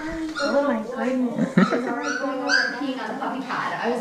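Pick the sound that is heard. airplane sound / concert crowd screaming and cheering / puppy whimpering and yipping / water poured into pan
puppy whimpering and yipping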